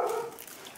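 A pet dog barking indoors in the background, a brief fading bark or yip at the start followed by quiet room tone.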